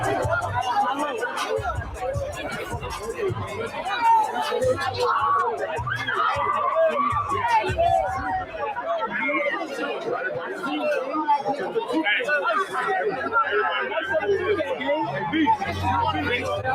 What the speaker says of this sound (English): it must be an LA crowd